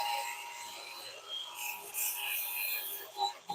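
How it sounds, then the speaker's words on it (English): Sandpaper lightly rasps against a rough wood piece spinning on a lathe at reduced speed, a steady, close scratchy rubbing with slight swells in loudness and no talking. "giving it just a nice light sanding"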